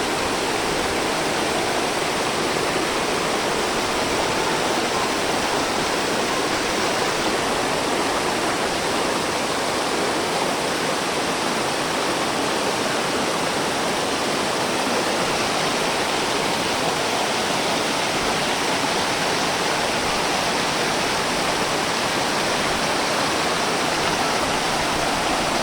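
Manikmoyo waterfall with clear, cold water pouring steadily, a dense continuous roar of rushing water that stays loud and unchanging throughout, with no voices.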